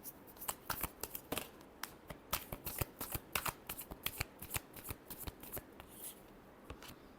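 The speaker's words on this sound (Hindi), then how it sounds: "Last shuffle." A deck of tarot cards is shuffled by hand in a rapid series of crisp riffling and slapping bursts, close and clear, with no talking.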